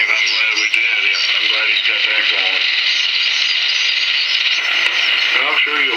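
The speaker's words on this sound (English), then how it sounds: "You can hear an AM station here." AM station received on a National NC-100ASD tube radio in the 80 meter ham band, playing as a steady, loud stream of band-limited voice over a constant hiss with no pauses.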